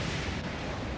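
Tank main gun in the game Armored Warfare, a Magach 7C firing sabot rounds as fast as it reloads; a dense, continuous low rumbling boom with no clear separate shots and no talk.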